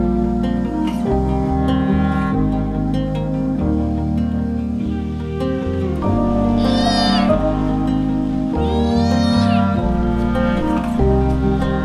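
A new cat at a hostel meows a couple of times, with drawn-out, wavering cries over a loud, steady tonal background.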